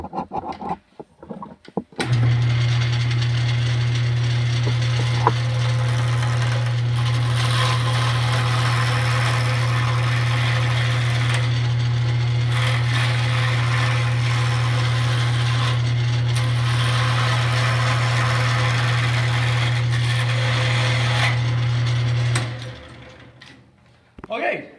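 Wood lathe spinning a wooden chest handle blank, a steady loud mechanical hum with a strong low drone running continuously for about twenty seconds, starting and stopping abruptly, with faint tool scraping over it.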